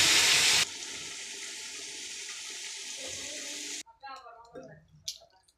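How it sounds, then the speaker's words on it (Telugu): Water from rinsing a mixer jar is poured into a cooking pan. A steady rushing pour runs for a few seconds and then stops abruptly, followed by a few faint clinks and splashes. "మిక్సీ జార్ కడిగి వేస్తా ఉన్నాను 1 గ్లాసు."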